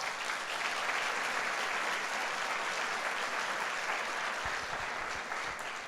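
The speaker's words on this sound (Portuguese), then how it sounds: "Então dá um aplauso a Jesus aí." Church congregation applauding during a Sunday service, a continuous dense roar of many clapping hands sustained throughout, moderately loud with a faint low thump near the end.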